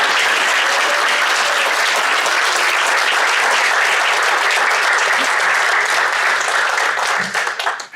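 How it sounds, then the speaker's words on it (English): Loud, sustained applause from the audience at a county school board meeting as the school nurses are honored, a dense even roar of clapping that tapers off abruptly in the final second. "Let's give them a round of applause."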